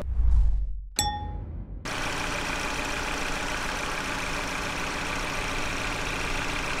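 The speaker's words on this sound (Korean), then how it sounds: "엔진 소리 한번 듣고 가셔야죠" A 2021 Genesis G80 engine starts with a ding and a clank, then settles into a quiet, even idle that hums steadily and close for the rest of the stretch.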